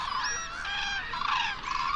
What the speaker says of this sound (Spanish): Con las primeras luces, las grullas van llegando a las orillas abiertas del lago.